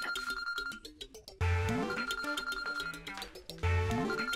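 A telephone rings in bursts of bright, rapidly repeating electronic bell tones, loud and close, with a short gap between two ringing phrases.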